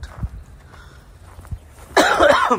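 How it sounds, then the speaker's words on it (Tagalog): A single harsh, raspy cough bursts out near the end after a near-silent stretch with a few soft thumps. "Ay, ang ubo ko."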